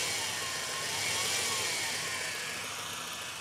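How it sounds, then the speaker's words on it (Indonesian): A 2000 BMW E46 318i with an M43 engine idles steadily with a smooth, even hum and a faint whir from the running AC compressor, continuous and fairly quiet. "Ini AC-nya nyala dan bunyi kompresornya masih lumayan halus."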